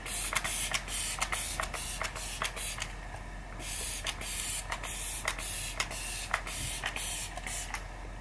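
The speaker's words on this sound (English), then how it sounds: "I'm gonna be taking this Glam Glow Glow Setter Makeup Setting Spray" Glam Glow Glow Setter makeup setting spray misted in a series of short, crisp hissing bursts, roughly a dozen quick pumps in an irregular rhythm, close and fairly loud against a quiet room.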